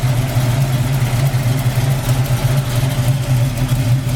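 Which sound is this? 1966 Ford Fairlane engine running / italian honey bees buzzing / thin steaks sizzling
1966 Ford Fairlane engine running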